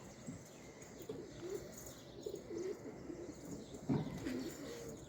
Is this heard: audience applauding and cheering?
no